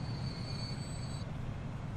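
A fuel train rolls along in the video game Transport Fever, a steady low rumble of wagons with a thin high wheel squeal that holds for about a second and then cuts out.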